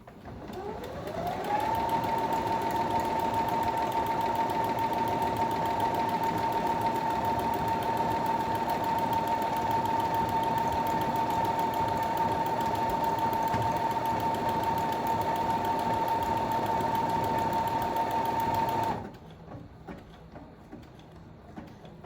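A computerized sewing machine stitches decorative letters, its motor whirring at a steady, loud, even pitch for about seventeen seconds before stopping on its own and leaving quiet.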